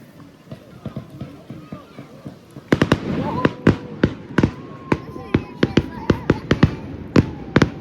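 Rapid-fire Fourth of July fireworks go off outdoors, a fast string of sharp cracks and pops in uneven bursts over a hissing background, with people talking nearby.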